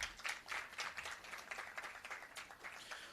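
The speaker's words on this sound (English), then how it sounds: "One last round of applause." Scattered applause from a youth dialogue summit audience, fairly faint and distant, with uneven bursts of clapping across the whole stretch.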